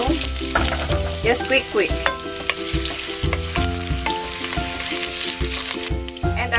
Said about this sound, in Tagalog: Let's heat our oil and fry our potato.